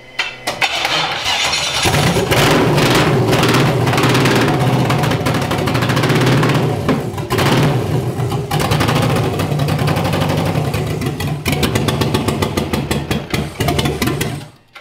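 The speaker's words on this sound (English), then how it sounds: "It's got a misfire." A Pontiac GTO V8 drift car with a misfire starts and runs loud and close, its rough, uneven idle choppy and stumbling with bursts of revving throughout.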